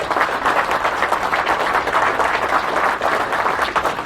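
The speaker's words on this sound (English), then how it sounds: "I think you all deserve a very big round of applause" A crowd applauds at a pipe awards presentation, a dense and steady wash of many hands clapping that holds at full strength the whole way through, with no voices rising above it.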